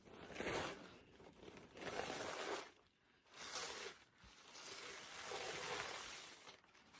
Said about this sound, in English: you're going to want to separate the backing of the napkin from the front